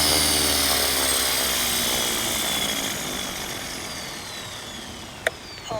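An Align T-REX 470LP RC model helicopter whirs loudly and close, its rotor and electric motor giving a continuous high whine with gliding tones that slowly ease lower, broken by one sharp click near the end.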